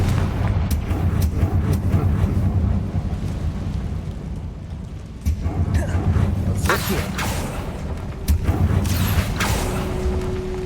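Confringo explosive spell in Hogwarts Legacy, a series of loud booming blasts and crackling bursts rolling through the whole stretch, with heavier hits toward the middle and end and a voice heard among them.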